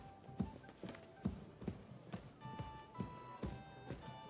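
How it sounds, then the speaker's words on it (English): Horse hooves clip-clop in the Kingdom Come: Deliverance II video game, a steady run of hoof strikes about every half second on a hard floor, with faint tonal game music underneath. "I saw a horse spawn in the room."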